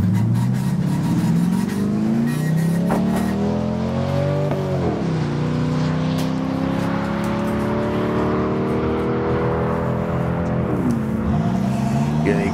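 A Falcon Ute drag racing car launches hard down the strip at a test and tune day, engine loud and close, revving up through rising gear sweeps with two clear shift drops before pulling away.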